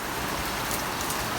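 Heavy outdoor rain falls in a steady, dense hiss of drops striking the ground and nearby surfaces, constant throughout with no voices.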